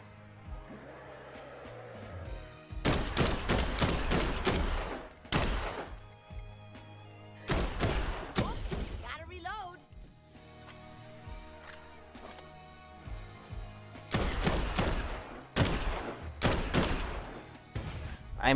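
Guns fire at zombies in the game Dead Island 2, with loud rapid bursts of shots in several separate volleys between quieter gaps that hold zombie snarls and game noise.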